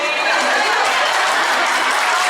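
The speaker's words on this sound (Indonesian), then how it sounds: "Oke, tepuk tangan." A crowd claps steadily at a church women's gathering, dense and continuous applause filling the whole moment.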